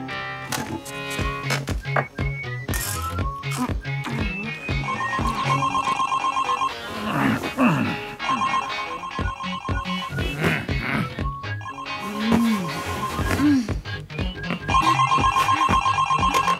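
A telephone ringtone plays in repeated electronic bursts over about sixteen seconds, separated by brief gaps filled with clattering household noises and other sounds.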